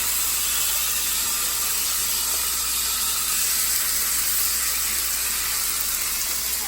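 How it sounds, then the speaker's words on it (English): Salmon sizzling in a hot pan alongside asparagus, a loud, dense, unbroken hiss and crackle of frying that holds steady with no speech over it. "Now we're going to add our salmon into our pan."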